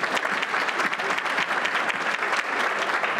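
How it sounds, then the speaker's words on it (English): Dense, even applause from a breakfast gathering crowd, continuous and fairly close throughout. "Give her a round of applause."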